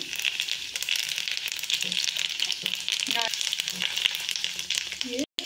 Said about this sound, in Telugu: ఆయిల్ కొంచెం వేడెక్కిందండి. మనం ముందుగా జీలకర్ర వేసుకుందాం.